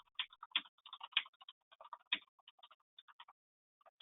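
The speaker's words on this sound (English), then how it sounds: "I'll type a message in here for them." Quiet, close typing on a computer keyboard, a quick irregular patter of light key clicks in short bursts with small pauses, heard alone without talk.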